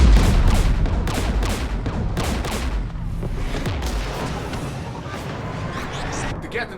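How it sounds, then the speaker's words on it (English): Gunfire in the video game Mass Effect 3: dense, rapid bursts of shots and heavy booming impacts rolling continuously, loud and close, with voices speaking under the barrage. "We're taking fire."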